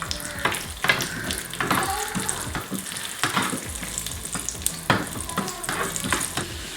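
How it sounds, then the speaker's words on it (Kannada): Cashews and raisins frying in a pan give a steady sizzle with scraping stirs and clinks of the utensil, close and fairly loud, with no voices. "ನೆಕ್ಸ್ಟು ಗೋಡಂಬಿ, ದ್ರಾಕ್ಷಿ ಫ್ರೈ ಮಾಡ್ತೀನಿ ಚೆನ್ನಾಗಿ"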